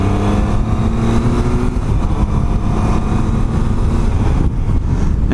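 Triumph Tiger motorcycle being ridden, its engine droning loud and steady close to the rider with slight rises and dips in pitch under wind noise, with no talk.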